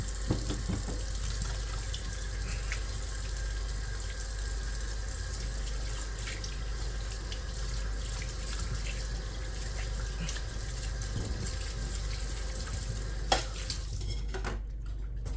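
Water runs steadily from a tap, a constant broadband rush with small clinks and splashes; a sharp knock near the end as the flow stops.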